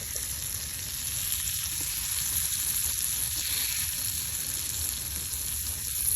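Fish fries in hot oil in a pan in a village kitchen, giving a steady close sizzle with soft crackling that stays constant and unbroken throughout.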